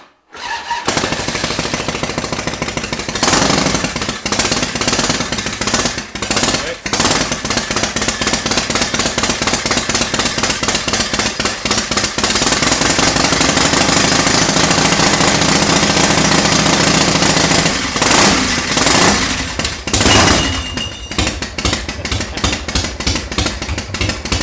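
Harley Davidson Softail Bobber engine cranking, catching and then idling with a loud, choppy, rapid-fire rumble close by, steady throughout with a few uneven bursts and rough patches.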